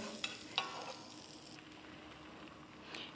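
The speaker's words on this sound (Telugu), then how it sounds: "నెక్స్ట్ నేను కొంచెం బటర్ వేసి I'm going to make the omelette." Egg omelette frying in butter in a pan for a Kolkata-style egg kathi roll, a faint continuous sizzle with a couple of sharp utensil clicks near the start.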